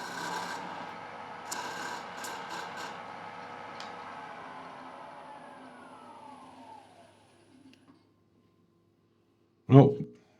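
A wooden tool handle turns on a lathe against a sharp beveled-edge tool, giving a steady rasping cut that fades over about seven seconds. Near-silence follows, then one sharp, loud knock near the end.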